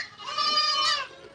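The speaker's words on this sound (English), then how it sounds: "I need a big goat." A goat bleats once, close by, in a single drawn-out wavering cry with a strained rise near its end, then quiet.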